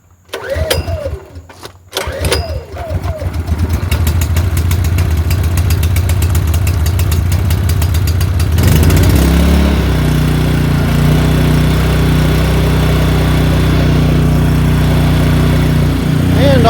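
A PowerSmart 4400W portable generator engine cranks with a few rough pulls, catches, and settles into a loud, steady, close-up running drone that shifts in pitch partway through.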